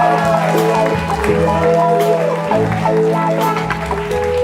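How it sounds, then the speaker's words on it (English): Audience applause at a live band event, steady clapping and crowd noise lasting throughout over sustained music. "give a huge round of applause to these guys up here"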